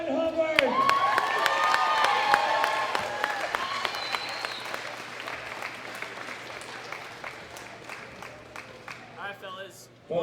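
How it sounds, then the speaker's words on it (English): A crowd at a world classic powerlifting championship applauds an 83 kg gold medalist, with steady clapping and scattered cheers, while a voice speaks over the start and the applause slowly fades. "big round of applause for Owen Hubbard"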